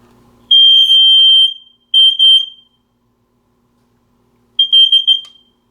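A smoke alarm gives short, high-pitched electronic beeps in three separated bursts with silence between them, loud and close.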